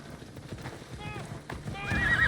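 Horses of mounted guards in Assassin's Creed Odyssey, with hoof clops and a brief whinny mixed under busy game sound and a voice, fairly faint and short.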